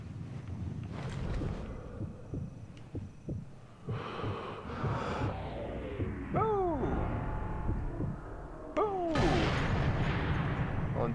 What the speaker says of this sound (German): Und der letzte Schuss sitzt genau da, wo er soll.